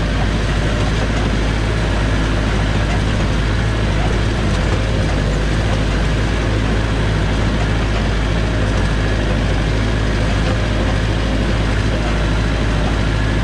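A tractor drives through tall corn while spraying, its engine a steady, close, low drone that stays even throughout with no pauses.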